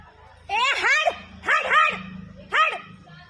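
A dog gives three sharp, close barks or yelps in quick bursts, with brief quiet between them.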